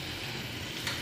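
Butter sizzles and crackles steadily in a hot pan, a close, continuous frying hiss with no talking.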